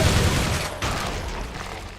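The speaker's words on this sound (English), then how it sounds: "you can see 5 damage per machine gun shot" Rapid bursts of machine gun fire in Quake 3, played in VR, crackle and pop in quick succession, dense and loud without any voices.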